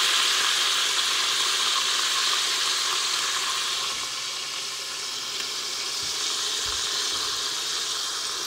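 Steady close sizzle and hiss of beer poured into a hot Instant Pot to deglaze the bottom after browning pork for Coca-Cola pulled pork, continuous and fairly loud throughout with no talking.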